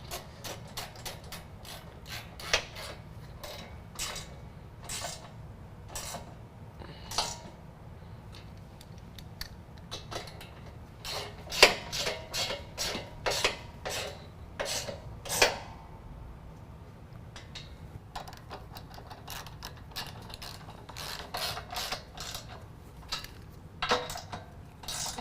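A hand ratchet tightens the bracket bolts for a running board on a Toyota Tundra, giving repeated sharp clicking strokes in irregular bursts. The sound is close and fairly quiet against a low background hum, and no one speaks.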